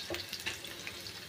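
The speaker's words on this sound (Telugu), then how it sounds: "సిమ్లోనే పెట్టి వేయించుకోండి కొంతసేపు" Potato sticks fry gently in oil over low heat, giving a soft, steady sizzle with light crackles and faint bubbling throughout, close and fairly quiet with no voices.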